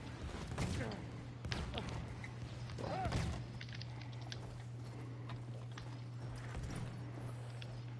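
Horse hooves clip-clop in the video game Battlefield 1, faint rhythmic thuds over a steady low game hum, with a player's voice speaking briefly near the start.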